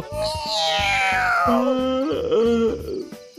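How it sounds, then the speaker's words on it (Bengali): An animated cartoon cat meows in a long, sliding cry that falls in pitch, over plucked background music with a steady rhythmic beat. "বিড়াল"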